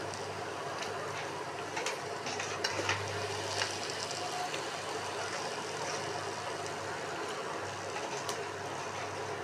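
Boiled, drained pasta goes into a pan of garlic sauce, giving a steady soft sizzle with faint scraping and stirring clatter throughout, close and moderately quiet, with no talking.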